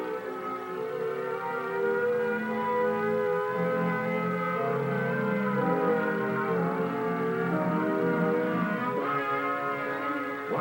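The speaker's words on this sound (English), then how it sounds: "the alert will be a warbling siren blast," Warbling civil defense air raid siren sounding an alert, a loud continuous wailing tone rising and falling steadily throughout, with no voices.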